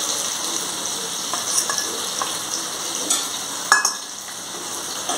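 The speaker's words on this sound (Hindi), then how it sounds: "अब टिंडी को अच्छी तरह भूनेंगे" Tinda (round gourd) fries with garlic and chili in a pan, giving a steady close sizzle with occasional scraping stirs and a few clinks, and no talk.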